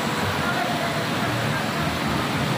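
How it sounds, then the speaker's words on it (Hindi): Heavy rain pours in Karachi as water runs along a flooded road, a dense, constant hiss and wash at close range, steady and loud for the whole short stretch. "बहुत तेज़ बारिश है और पानी देखें रोड पे कितना चल रहा है"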